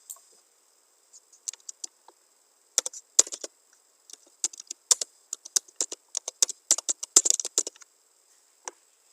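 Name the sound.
typing text on a computer keyboard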